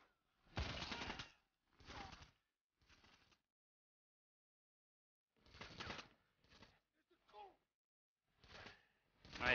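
Gunshots in the Wanted: Weapons of Fate video game, several short separate bursts of gunfire with silent gaps between them, mixed with a player's voice.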